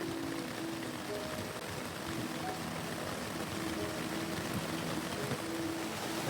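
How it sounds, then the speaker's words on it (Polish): Light rain falls in a soft, steady hiss on a tent during a river trip. It is faint and even, and a low drone hums underneath. "W tym momencie pada, ale kropi"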